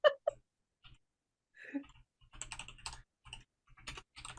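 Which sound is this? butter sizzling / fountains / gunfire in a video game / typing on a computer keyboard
typing on a computer keyboard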